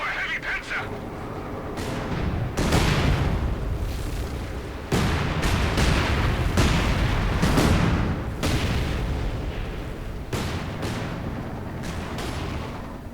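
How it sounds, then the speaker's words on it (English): Light artillery barrage in the World War II strategy game Company of Heroes 2: a series of heavy booms and shell impacts at irregular intervals, with rumbling blasts overlapping throughout. "And a light artillery barrage like around here."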